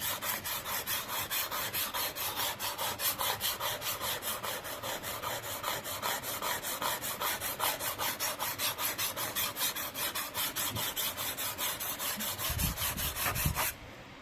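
A blade is sharpened on a diamond stone with steady back-and-forth rasping strokes, a quick even rhythm of gritty scrapes, close and continuous, with a couple of soft knocks near the end.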